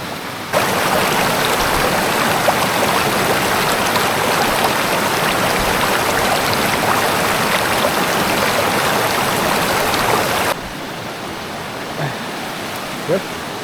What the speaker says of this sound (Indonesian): air sungai yang jernih